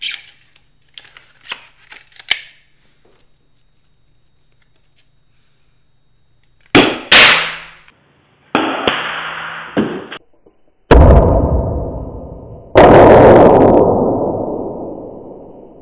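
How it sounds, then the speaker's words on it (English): An airsoft grenade launcher fires at a man-sized target about 25 feet away, a sharp whoosh and thump of the shot followed by several loud, close bangs with short echoing tails. "You will see the projectile hit the man-sized target squarely, and produce a loud bang upon impact."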